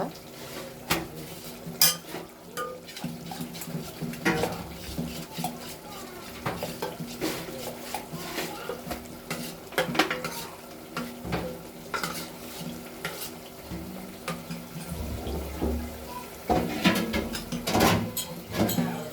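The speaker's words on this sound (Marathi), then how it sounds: "अशा पद्धतीने आता त्याला छान मिक्स करून घ्यायचं आहे, छान हलवून घ्यायची आहे." Cooked masoor dal is stirred in a pan of tempered oil, with repeated scraping and clinking of a utensil against the metal over a soft sizzle, close and fairly loud throughout.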